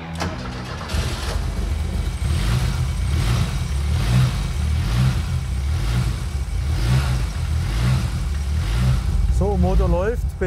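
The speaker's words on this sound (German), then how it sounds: "Motor läuft einwandfrei" A Porsche 924 Carrera GTS rally car engine runs steadily close by, with a rhythmic low chugging and a brief voice-like sound near the end.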